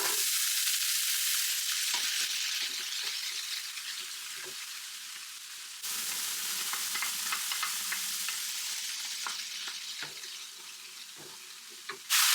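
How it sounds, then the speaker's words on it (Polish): Vegetables sizzle steadily in a pan with a little sesame oil, a continuous loud frying hiss broken by frequent clicks and scrapes of stirring. "I teraz na patelnię daję trochę oleju sezamowego, kapkę i wrzucam te warzywa."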